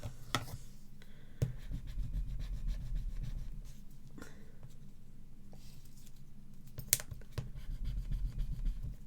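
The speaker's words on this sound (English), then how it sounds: "Just give them another little burnish if you want." Folded white paper pages for a homemade address book are burnished with soft, steady rubbing strokes. The scraping is quiet and close, with a few sharp ticks and no talking.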